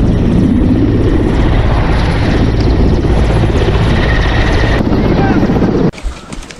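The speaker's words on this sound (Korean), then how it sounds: "끼우 공항 점거를 위하여 러시아의 특수부대원들이 헬기로 투입됩니다." Russian military helicopters carrying special forces to seize Kyiv airport, a loud continuous rotor and engine roar filling the scene for about six seconds before cutting off abruptly.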